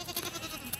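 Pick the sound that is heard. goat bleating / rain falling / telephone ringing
goat bleating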